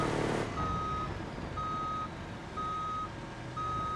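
Truck reversing alarm in the driving simulator BeamNG.drive: a steady, clear electronic beep repeating about once per second over a low engine rumble, with no talking.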